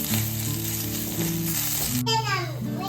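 Beef liver frying in a pan gives off a steady, close sizzle that runs unbroken the whole time, with a brief higher tonal sound rising over it near the end.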